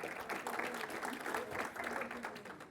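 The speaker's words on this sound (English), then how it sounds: "So let's have a round of applause for the gentleman." Audience applause after a lecture question on Jewish history and the mob, a dense, even clapping that fills the whole short stretch at moderate loudness without letup.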